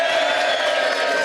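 A live podcast crowd at a weekender event roars with a brief, loud burst of cheering and whooping, steady and close throughout.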